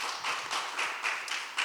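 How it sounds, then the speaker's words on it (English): A small audience claps at a discussion event, a steady patter of overlapping hand claps lasting under two seconds with a few sharper swells, no voices over it. "You can definitely clap for that."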